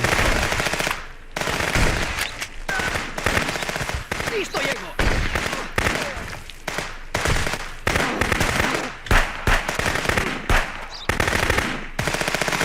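Gunfire in the Contraband Police video game, rapid bursts of loud automatic shots and single cracks in near-continuous clusters, with a voice talking in between.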